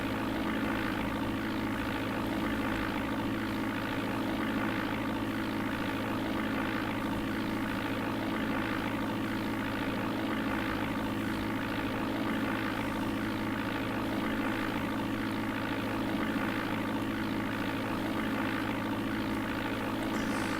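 A steady, droning propeller aircraft engine in the DOS game Flight Simulator 4 hums continuously at constant pitch, synthetic-sounding, with no talking.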